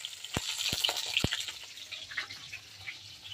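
Fish fries in a pan with a faint crackling sizzle, broken early by three sharp clicks or taps, before the sizzle settles into a quieter, sputtering hiss.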